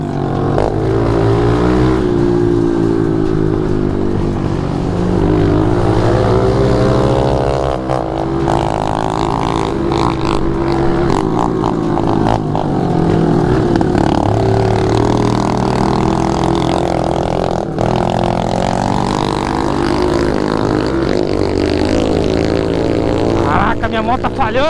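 A mini motorbike that smells of burnt oil revs hard while stuck in a deep mud bog, its engine droning loud and close with rising and falling pitch throughout.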